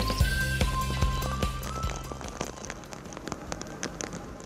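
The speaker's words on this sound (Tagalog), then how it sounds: "Dahil sa walang tigil na pag-ulan," Heavy, incessant typhoon rain pours steadily on surfaces in Cagayan, a dense close wash of drops with scattered sharper impacts throughout, no voices.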